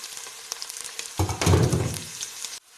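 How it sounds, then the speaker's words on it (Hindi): Onions frying in a pan with garlic and ginger: a hiss starts faintly, swells abruptly into a loud, dense sizzle for about a second and a half, then cuts off sharply. "हम लोग इसके साथ जो है वो लहसुन अदरक भी शामिल कर देंगे। इसको अच्छी तरह फ्राई करेंगे"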